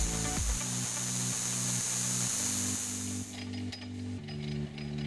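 A lathe turns the profile of a small clock dial foot, a continuous whirring hum with rhythmic pulsing and a hissing cutting noise that fades to quieter ticking near the end.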